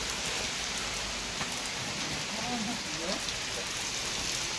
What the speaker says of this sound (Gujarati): જો મિત્રો વરસાદ પડે છે.